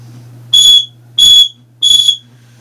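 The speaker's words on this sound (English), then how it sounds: "And then it has a built-in whistle, which I will demonstrate by turning myself completely around." Three short, shrill blasts from the small built-in whistle of a Highgear multi-tool, each about a third of a second long and evenly spaced, loud and close against a faint low hum.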